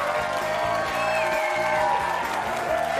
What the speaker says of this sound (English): Big round of applause for all today's newlyweds.